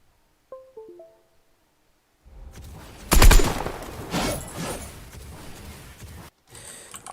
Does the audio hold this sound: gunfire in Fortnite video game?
yes